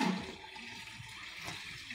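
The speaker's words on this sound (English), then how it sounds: "thanks to the whisper-quiet and extremely efficient turbo flush technology" A Geberit toilet's turbo flush, a steady rush of water and swirling wash that sounds fairly quiet and close, continuous without talk.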